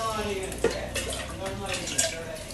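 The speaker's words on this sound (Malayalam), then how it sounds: "ഇതിൽ 2 കപ്പ് വെള്ളമാണ് ഞാൻ ഒഴിക്കുന്നത്." Water pours into a cooking pot for kabsa rice, a soft close trickle and splash running steadily with a couple of brief clinks, fairly quiet.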